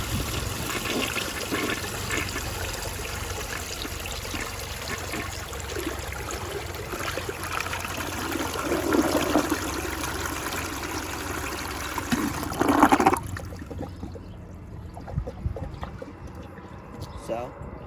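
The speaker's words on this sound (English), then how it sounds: "here's a partially clogged flush" A partially clogged Rheem Claymore toilet flushes with a loud rushing swirl of water that builds, gurgles and then cuts off abruptly, leaving faint trickling, with a voice audible in the background.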